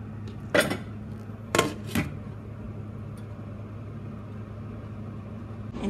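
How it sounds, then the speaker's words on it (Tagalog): Carrots drop into a pan while blanquette cooks, giving a few sharp clinks and clatters of utensils against cookware over a low steady kitchen hum, with quiet stretches in between. "Now, ilagyan na natin yung ating carrot."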